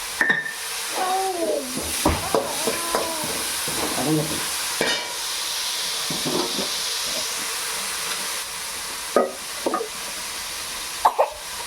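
Chopped onions sauté in a pan for crab gravy, a steady close hiss and sizzle with occasional stirring clatter and scrapes of the spoon.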